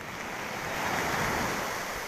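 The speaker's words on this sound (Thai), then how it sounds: "คลื่นเริ่มแรงครับผม" Strong sea waves churning during Storm Pabuk, a continuous rushing surf roar with wind noise buffeting the microphone, steady and fairly loud with no voices.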